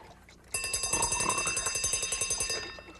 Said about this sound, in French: C'est le réveil matin qui m'a réveillé?